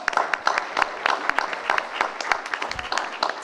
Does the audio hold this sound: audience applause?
yes